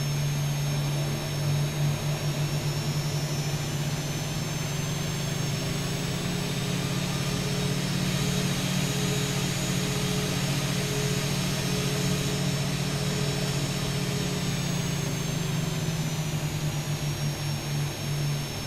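A Boeing 737-800's jet engines in the X-Plane 12 flight simulator drone steadily with a low hum and a thin high whine, holding constant throughout.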